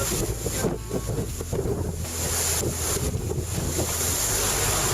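A racing sailboat in the Vendée Globe runs downwind at speed through open ocean, with a steady roar of rushing water, wave wash and heavy wind buffeting on the microphone throughout, and no voices.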